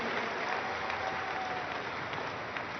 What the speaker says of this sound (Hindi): एक बार जोरदार तालियों द्वारा इसका अभिनंदन आप सब लोग करें